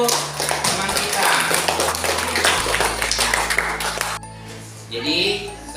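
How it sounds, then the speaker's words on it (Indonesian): A class of primary school pupils claps for a classmate in a school classroom, a dense, continuous patter of many small hands that fills about four seconds and then stops abruptly, leaving a quieter room with a voice beginning to speak. "tepuk tangan untuk teman kita"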